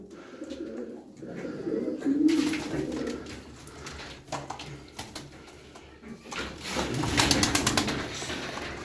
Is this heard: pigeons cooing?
yes